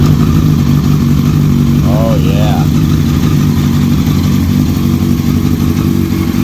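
A 2006 Honda CBR1000RR superbike with an undertail exhaust idles steadily in neutral, a loud close engine drone under a brief spoken exclamation.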